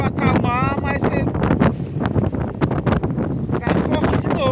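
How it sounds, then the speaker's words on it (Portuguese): Strong wind buffets the microphone at sea beside small fishing canoes. It is a loud, continuous roar and rush, with faint voices and whistling mixed in. "nós estamos vendo aqui ainda o vento"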